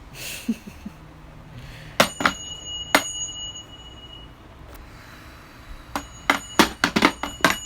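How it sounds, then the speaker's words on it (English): A bell struck rhythmically like a drum during a new moon healing session, with sharp ringing hits in irregular bursts and some tones sustaining between strikes. "Are you drumming with a bell"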